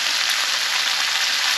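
A savoury mixture crisping up in a pan gives a steady, close, even sizzle throughout, with no voices.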